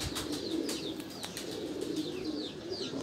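Teddy pigeons of the Ch. Sakhi bloodline coo in a rooftop breeding setup, a string of close, repeated soft rolling coos overlapping one another above a low background hum.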